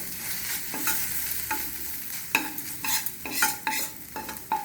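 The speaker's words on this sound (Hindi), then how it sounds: "और ये हरी मिर्च डाल देंगे, अदरक, इसको भून लेंगे मसालों को।" Green chillies, ginger and spices fry in a pan with a steady sizzle while a spatula scrapes and knocks against the metal in quick repeated strokes, close and without talking.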